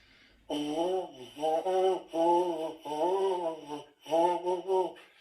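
A buzzing lip tone for baritone horn practice, close and fairly loud, breaks off and restarts several times in uneven bursts rather than holding steady.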